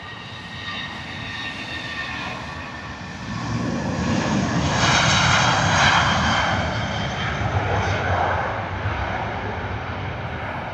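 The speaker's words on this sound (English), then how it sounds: "Here's our red-nosed Rudolph Airbus A380 from British Airways." A British Airways Airbus A380 with a red nose cone passes at Heathrow, a broad jet roar swelling to a loud peak with whining tonal bands and then easing off as it moves away.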